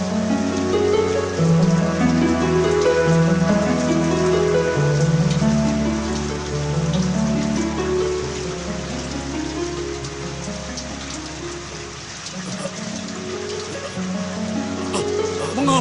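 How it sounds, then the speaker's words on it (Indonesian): Heavy rain pours steadily over a dramatized retelling of the great flood in the story of Noah, under a layered bed of music and a voice speaking throughout. "Mengapa langit tidak berhenti menurunkan hujan?"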